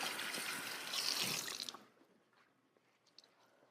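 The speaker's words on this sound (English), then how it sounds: "let me just wash my hands." Water from a kitchen tap runs steadily as hands are washed, a soft broad splash close by that lasts under two seconds, then cuts off and leaves faint drips and small handling noises in a quiet room.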